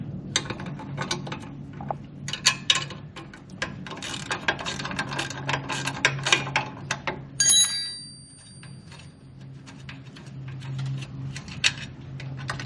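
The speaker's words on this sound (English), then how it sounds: "this is where the 10 mil wrench and ratchet come in" Ratchet wrench with a 10 mm socket clicking as it turns a bolt on a Can-Am Canyon three-wheeler, close up: rapid bursts of ratcheting ticks across the whole stretch, with a brief metallic ring partway through.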